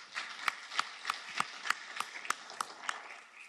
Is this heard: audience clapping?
yes